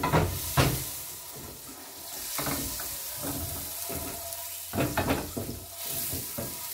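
Butter sizzles in a pan over medium heat with a steady frying hiss, broken by occasional scraping stirs and clinks close by.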